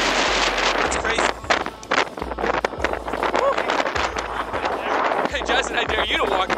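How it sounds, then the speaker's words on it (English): Strong coastal wind buffets the microphone in heavy, uneven gusts, with low rumbling thumps coming and going throughout. "It is windy"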